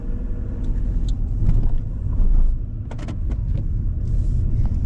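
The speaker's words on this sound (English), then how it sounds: "So the central locking works on the key." A Mini car's central locking is worked with the key, giving a few sharp mechanical clicks and clunks over a steady low rumble of passing traffic outdoors, with no talk.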